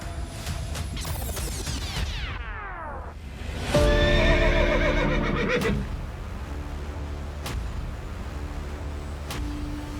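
A racehorse at a speed-racing event neighs, with a loud, descending whinny in the opening seconds followed by more strained, harmonic calls mid-clip over steady background noise of the grounds.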